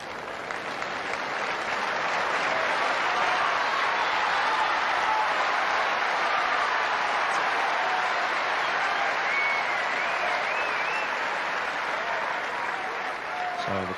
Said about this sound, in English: So the crowd showing their appreciation as Korda serves for the match.